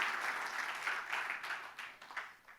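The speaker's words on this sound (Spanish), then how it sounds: "Dele fuerte ese aplauso al Dios que es nuestra sabiduría" Congregation at a Spanish-language church service applauds loudly in praise of God, a dense wash of clapping that swells and fades in waves over a few seconds, with no talking.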